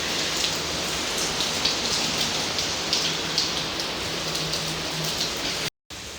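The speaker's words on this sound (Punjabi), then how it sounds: "ਕੱਲ ਦੁਪਹਿਰ ਦਾ ਮੀਂਹ ਪੈ ਰਿਹਾ" Steady rain pouring down, a dense even hiss with scattered drops, continuous and fairly loud, with no voices.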